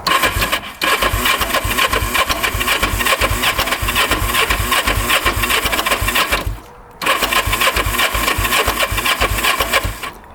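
A choked motorcycle engine fires up and runs on its own, a loud steady rhythmic thumping that holds for about six seconds, breaks off briefly as if cutting out, then catches again and keeps running.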